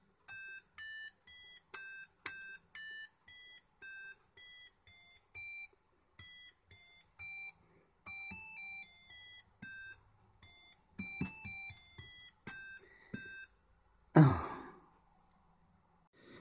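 A homemade penny organ plays a little tune of short electronic beep-like tones in a steady rhythm, clean and close, followed by a throat clearing at the end.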